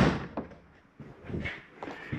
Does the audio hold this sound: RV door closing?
yes